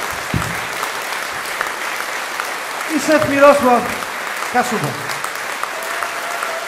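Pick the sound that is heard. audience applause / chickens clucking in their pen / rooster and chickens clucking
audience applause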